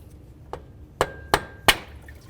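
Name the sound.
hammer striking pry bar to free water pump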